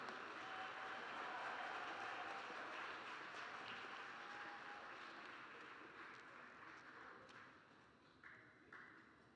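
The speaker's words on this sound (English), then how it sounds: "Let's give a round of applause for all of them" An audience at a university master's and doctoral hooding ceremony claps in steady sustained applause, a dense wash of many hands that slowly fades over several seconds, heard from some distance in a large hall.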